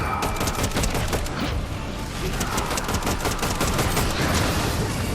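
Mythic assault rifle firing in Fortnite, a dense, unbroken stream of rapid, loud automatic shots that runs the whole stretch with no pauses.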